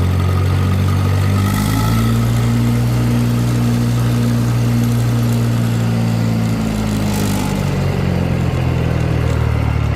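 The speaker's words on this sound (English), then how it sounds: "Come to a complete stop, and it's just idling." A Case tractor engine with a Case-O-Matic transmission idles loudly and steadily nearby at a complete stop, with a low, even chugging drone that holds for the whole stretch.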